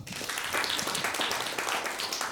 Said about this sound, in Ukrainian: поаплодуйте, будь ласка, ті, в кого є якісь страхи